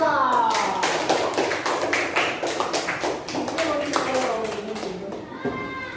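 A classroom of students claps for group 2 as its representatives step forward, a steady run of many hand claps over a voice and harmonic, chant-like speech.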